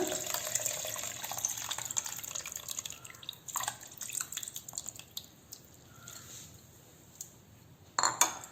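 Soaked tamarind is squeezed by hand in water for an Onam lemon curry, giving soft wet dripping and trickling with faint clinks of a vessel, quiet and close.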